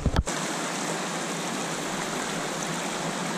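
A mountain creek flows through a remote canyon where brook trout live. A brief thump comes at the start, then the water gives a loud, steady, close rushing roar throughout.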